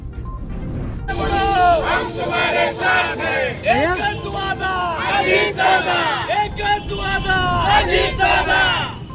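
Party workers of the Nationalist Congress Party (Ajit Pawar faction) celebrating in Sangli, a loud crowd cheering and shouting continuously, with many overlapping voices and rising whoops throughout.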